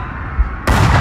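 A shell strikes a tank in an armored combat video game, a sudden loud, sharp boom cutting in after a low rumble and sustaining as a dense blast.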